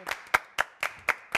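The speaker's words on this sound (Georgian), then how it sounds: "გავაცილეთ ნატია დუმბაზე აპლოდისმენტებით" Short burst of applause as a guest, Natia Dumbadze, leaves a morning TV studio, heard as six evenly spaced, sharp claps, fairly close and moderately loud.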